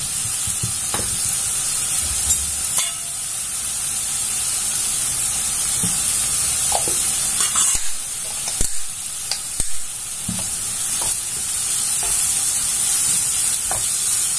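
Chicken with ginger garlic paste is stirred and fried in a pan for chatti pathiri, giving a continuous hissing sizzle punctuated by repeated spatula scrapes and knocks over about fourteen seconds, with no voices.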